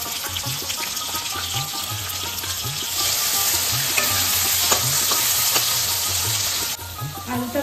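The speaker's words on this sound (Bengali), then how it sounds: "এবার তেলে আলুগুলো দিয়ে দিলাম।" Potatoes fry in fish-frying oil with cumin, salt and turmeric in a pan, a dense steady sizzle with regular scraping stirs and a sharper hiss partway through.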